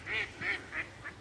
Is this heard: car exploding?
no